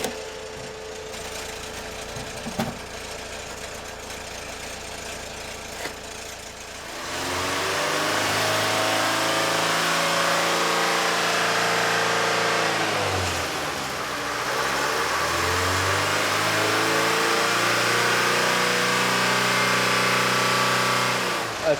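Car engine revving for a smoke opacity pollution test, run at 80 degrees: quiet surroundings, then from about seven seconds a loud, steady rev that dips briefly and climbs again.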